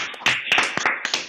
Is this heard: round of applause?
yes